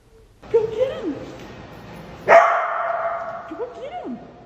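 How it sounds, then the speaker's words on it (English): A dog gives a few sharp barks and yips close by, one louder bark near the middle, with other short whiny vocal sounds around them. "Did he bark at you too?"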